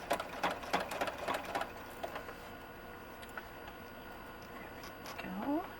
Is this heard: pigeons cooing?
no